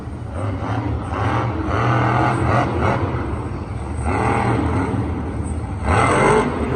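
The Bounty Hunter monster truck engine roars loud and steady at a Monster Jam arena show in St. Louis, swelling and easing in surges of revving over the crowd-filled space.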